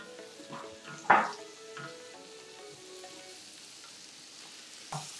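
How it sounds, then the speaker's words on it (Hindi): Paneer cubes going into a pan of frying onions with green chili and salt, a sharp clatter as they land, then a soft sizzle and occasional stirring scrapes, a final clink near the end. "अब डालेंगे हम पनीर, क्योंकि पनीर को भी थोड़ा सा हम प्याज के साथ सेकेंगे।"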